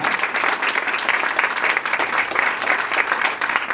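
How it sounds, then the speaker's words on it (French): Loud, dense applause from a large audience at a conference, many hands clapping in a continuous roar that stays steady throughout. "Et je vous demande de redoubler d'applaudissements pour Dorothée et Judith"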